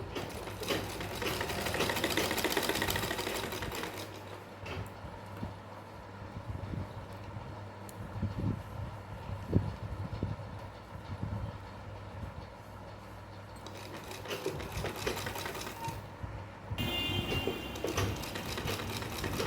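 A sewing machine stitches piping onto a small fancy dress for a Laddu Gopal idol, running in long close, loud bursts at the start and end with a quieter rattling stretch between.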